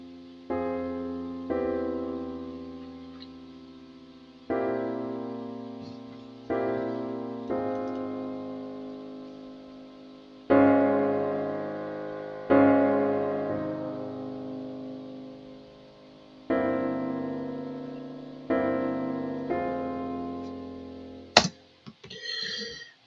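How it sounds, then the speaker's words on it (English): Sustained piano chords programmed as MIDI in Reaper, struck one at a time at a slow, even pace, each ringing out and decaying before the next, with a brief click at the very end. "where I have inputted some piano chords"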